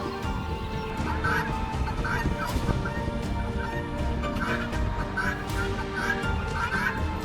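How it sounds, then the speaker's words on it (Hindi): Royal Palm turkey calling in an outdoor aviary, repeated short honking calls recurring roughly every second amid dense background bird noise and steady ambient rumble. "ये एक रॉयल पाम टर्की है।"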